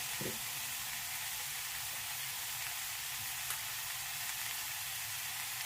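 Tomatoes cook in a pan with hotdog and bacon, giving a faint, steady sizzle with a soft hiss and occasional small ticks, alone and at a distance.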